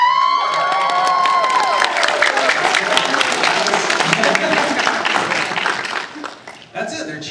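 Comic Con audience at a Honolulu panel erupts in loud cheering and applause, a dense sustained roar that fades toward the end, with a voice heard briefly at the start.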